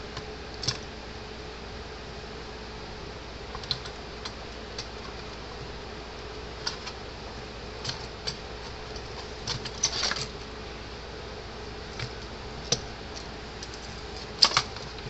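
Faint, irregular clicks from a Zareba 75-mile electric fence charger's circuit board under repair, scattered sharp ticks over a steady low hum at close range.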